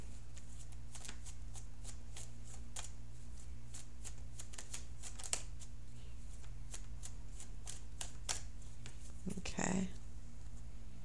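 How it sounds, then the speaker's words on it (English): Tarot cards are shuffled close up in a rapid run of crisp riffling flicks over a steady low hum, ending in a brief soft rustle. "So I'm shuffling for that outcome card."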